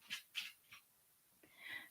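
A dog pants close by in a few short, breathy puffs, then goes quiet before a longer, softer exhalation.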